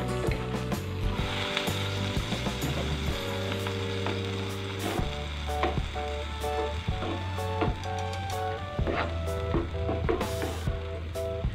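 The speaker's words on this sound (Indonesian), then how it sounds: "Sekarang mau aku masak sampai airnya mendidih." Chicken steak sauce with sweet soy sauce and tomato ketchup bubbles and sizzles in a pan, a steady crackling simmer punctuated by repeated clicks and spoon scrapes, with a low hum beneath.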